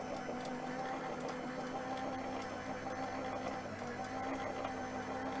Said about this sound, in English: There, you can hear the motor has grabbed it.